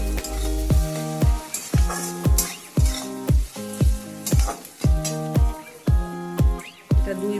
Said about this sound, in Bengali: পেঁয়াজটা আমি লাল করে ভেজে নিয়েছি